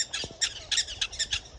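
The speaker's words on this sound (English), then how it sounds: "Prairie dogs are chirping" Prairie dogs in Wind Cave National Park give a rapid series of sharp, high, squawking chirps in quick bursts, fairly close and with no one speaking.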